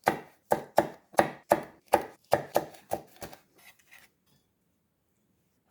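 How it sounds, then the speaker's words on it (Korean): Two cheongyang chili peppers are sliced on a cutting board, about a dozen crisp, evenly paced knife chops close up that slow and fade, then stop into silence. "느끼한 맛을 잡아줄 청양고추도 2개 썰어줍니다"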